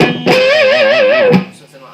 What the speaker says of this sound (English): you just give it a good vibrato and then put a pinch harmonic